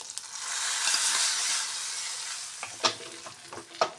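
Mustard seeds crackling in hot oil for a tempering, a dense close sizzle that swells and then thins, with a few sharp pops and utensil clicks near the end, no talking.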